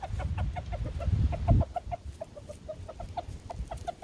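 Chickens and a rooster cluck over treats in a country yard, with close, repeated short clucks in a quick, uneven rhythm and a brief low flutter or scuffle partway through.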